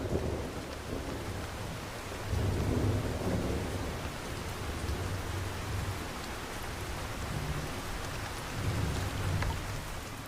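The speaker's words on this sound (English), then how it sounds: "Heavy storms are common here during the summer." Heavy summer rain pours steadily in a wet habitat, a dense hiss of drops with low thunder rumbling in swells through the background, no voices present.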